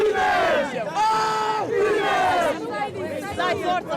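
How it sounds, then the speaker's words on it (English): A volleyball arena crowd roars and shouts in loud, sustained waves of overlapping voices, with rising yells and chant-like cries swelling and dipping over about four seconds. "This is the influence of the crowd."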